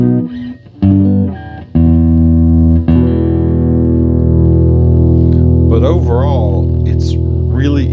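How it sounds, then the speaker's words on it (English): Clean-toned 2024 Gibson 1960 Les Paul Special Double Cut electric guitar through a Marshall amp: a few plucked notes, then a loud sustained chord ringing out, with a voice talking over the tail. "So, clean tones on this guitar."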